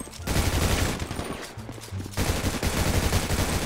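Rapid bursts of gunfire ring out in a GTA 5 roleplay shootout, with dense, overlapping volleys, a short lull in the middle, then heavy sustained firing resuming.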